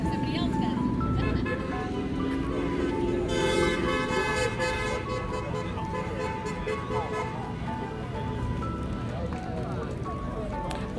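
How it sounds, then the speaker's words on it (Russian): Several car horns toot repeatedly in support of a pro-Ukraine street rally in the US, overlapping honks near and far, with voices talking through it. "А это все гудят."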